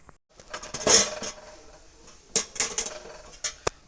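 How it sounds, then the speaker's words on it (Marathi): Metal cookware clanks as a lid goes onto a pot of cashew curry, with a few sharp clinks and softer knocks spaced across the moment, close and with no voices. "आता ही भाजी भाजीवरती झाकण लावून शिजण्यासाठी ठेवायचे"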